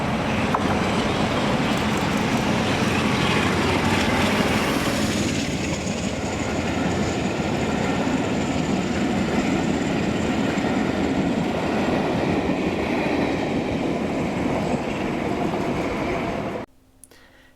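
A loud, steady rumble of a passing diesel locomotive, class 47, hauling passenger coaches in Scotland, with heavy engine drone and rolling wagon noise, continuing unbroken until it cuts off abruptly near the end.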